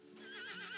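A horse whinnies once, a short high wavering neigh, fairly close and clear.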